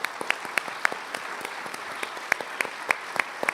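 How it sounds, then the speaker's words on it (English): An audience at an MLK Day celebration claps steadily, a dense patter of hand claps with sharper individual claps standing out, moderately loud and sustained throughout. "Please help me welcome and applaud Mr. John Sills."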